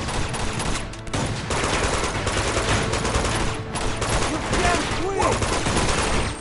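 Dense gunfire in the Uncharted 2 video game, a loud continuous barrage of shots and rattling automatic bursts with brief dips, filling the whole stretch.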